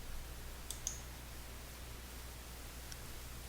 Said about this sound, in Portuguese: Vamos clicar aqui para verificar.